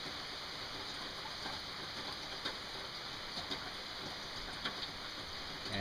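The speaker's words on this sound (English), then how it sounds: "30 seconds and the rain started." Steady rain falls during a thunderstorm as heard from a front porch, a dense, even hiss of drops with occasional closer splashes and taps, fairly faint and uninterrupted, no voices.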